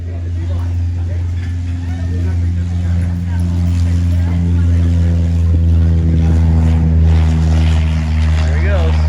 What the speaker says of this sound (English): At the Airfield Cafe, where planes will take off as you eat.